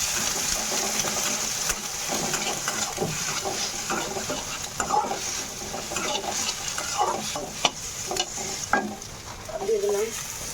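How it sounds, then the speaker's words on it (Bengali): An egg fries in a wok with chopped onion and chilli in a continuous sizzle. A spatula clatters and scrapes against the metal now and then, and there is no talk. "কড়াই বসিয়ে দিছি, এবার আমি ডিমটা ভেজে নেব"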